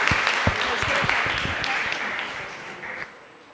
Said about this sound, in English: Give applause to her.